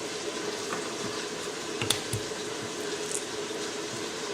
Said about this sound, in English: And you can hear the meat sizzling over there,